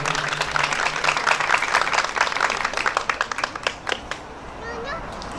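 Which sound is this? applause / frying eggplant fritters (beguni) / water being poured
applause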